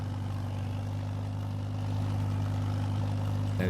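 A tractor engine runs steadily in a logging roleplay video game, with a low, constant droning hum and rumble that grows slightly louder partway through, heard alone without talk.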